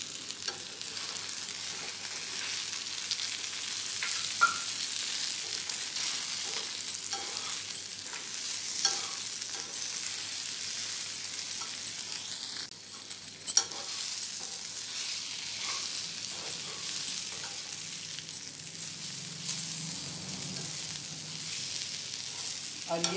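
Spice masala being stirred into kundru frying in a pan, a steady soft sizzle and hiss with scattered scraping and stirring knocks, close and even throughout, with no talking.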